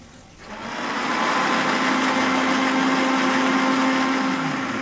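An electric mixer grinds boiled tomatoes and chillies into a paste. A steady, loud whirring hum starts after a brief quiet moment and holds evenly to the end.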